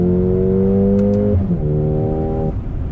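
A 2021 Mercedes-AMG GLA 35 SUV with a turbocharged 2-liter inline-4 pulls hard under acceleration, its loud engine note climbing steadily, dipping at a brief upshift, then rising again, heard close from inside the cabin.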